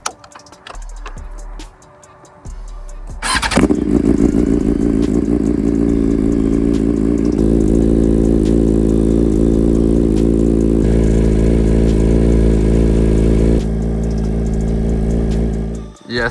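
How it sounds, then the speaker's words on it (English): A BMW M1000RR motorcycle is cold-started in the snow: after a few seconds of quiet, the engine catches with a sharp burst and settles into a loud, steady, close idle that runs to the end. "let's hear a cold start on the M1000 in the snow"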